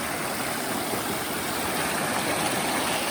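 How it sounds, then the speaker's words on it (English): Flash flood water rushing across and washing out a driveway, a steady, loud broadband roar of flowing water that stays constant throughout, close by and with no voices. "It's a flash flood again."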